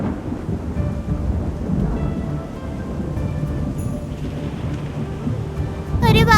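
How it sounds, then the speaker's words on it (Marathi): A thunderstorm with strong wind brings a steady wash of heavy rain and low rumbling thunder throughout, rising to a louder roll at the end. "बापरे, किती जोरात वारा सुटलाय. या वादळात झाड कोसळायला नको."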